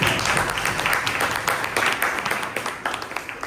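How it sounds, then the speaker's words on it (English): A Toastmasters club audience breaks into warm applause after a prepared speech, many hands clapping together in a dense patter that thins slightly as it goes on. "I want everyone to give a big hand of applause."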